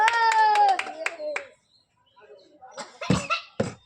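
Children clap a few quick, close-up times during a rice-and-curry plate game, coming after a child's high, drawn-out voice and a short pause.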